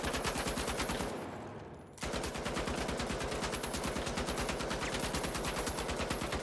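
An M60 machine gun in the game The Finals fires long, rapid automatic bursts, loud and close, with a brief gap where the firing drops away before resuming steadily.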